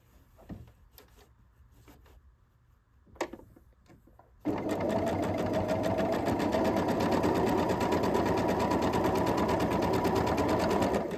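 Soft handling knocks and rustles give way to a home sewing machine stitching a quilt block piece, a loud close rapid whirring that runs steadily without pause.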